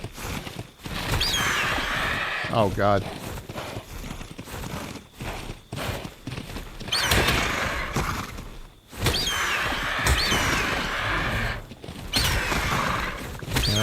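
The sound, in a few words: horse neighing in the video game Ark Survival Ascended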